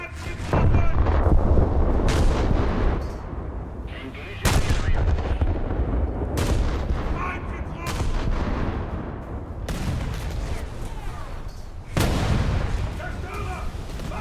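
Heavy warship guns in a naval battle game boom in several loud salvos, each sharp blast trailing into a rumbling roar, spaced a few seconds apart across a steady low background.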